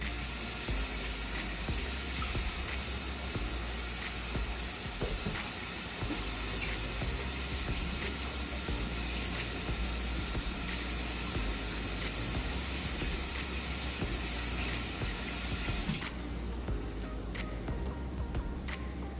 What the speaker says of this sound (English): I'm just going to give my hands a quick wash